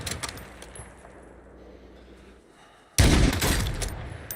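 Gunfire in the video game Warzone, a dense burst of rapid shots that erupts loudly after a few seconds of quieter game ambience, with no talk over it.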